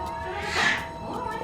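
A cat reluctant to enter a box during an airport animal check lets out a single drawn-out rising and falling yowl, close and clear, with faint background noise around it.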